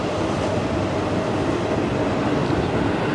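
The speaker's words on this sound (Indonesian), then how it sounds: "Ada KRL lewat." A commuter electric train (KRL) rumbles past nearby, a loud, steady roar that holds constant throughout.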